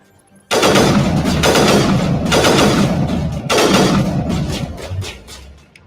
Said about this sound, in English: Kaiser rifle